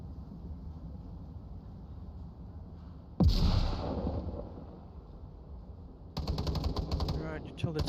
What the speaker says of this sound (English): gunshots being fired.